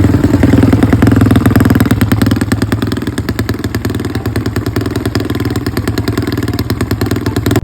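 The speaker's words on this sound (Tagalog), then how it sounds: "pinaandar nga ito ni Yuji at nakita nga namin na parang may konting problema" A street motorcycle engine runs steadily after being started, a loud, close, continuous idle with a rapid mechanical clatter and no speech over it.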